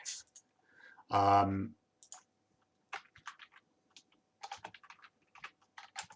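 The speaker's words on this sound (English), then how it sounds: "I'll type in 1 as my first number, and I'll type in 10 as my second number" Number keys are tapped on a computer keyboard in short, close clusters of light clicks, with a brief spoken word near the start.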